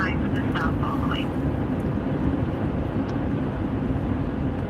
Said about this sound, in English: The plane's coming back out of Denver to a grade.